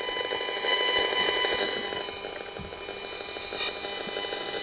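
A Safe and Sound Pro RF meter sounds a steady, high, tonal alarm that runs continuously near a military base, with faint background noise and no talk.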